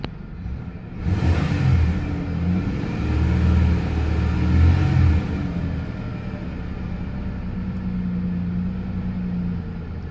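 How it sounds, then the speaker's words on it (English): A parked pickup truck's engine with an automatic transmission and about 120,000 miles revs up and holds a raised rumbling drone, then settles back to a steady idle, loud and close with no talking. "Let's go ahead and give it a few revs."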